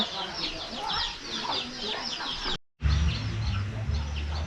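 Chickens in a village in Champasak, Laos, cluck in a steady stream of short calls, briefly cut off, then continuing over a low rumbling background.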